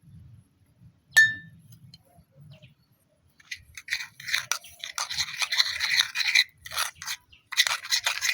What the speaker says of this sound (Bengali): স্বাদ মতো নুন, কালার করার জন্য হলুদ, জল দিয়ে ব্যাটারটা বানিয়ে নেব।